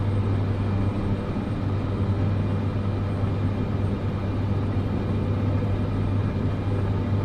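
Turboprop engine of a Cessna C208 Grand Caravan in MSFS 2024 as power is slowly brought up: a steady, droning hum with a strong low tone, holding even and loud throughout with no voices.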